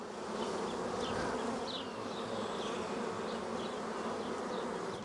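Honey bees buzz steadily and densely throughout as a colony is transferred into a Flow Hive, a constant close swarm drone with individual bees zipping past now and then.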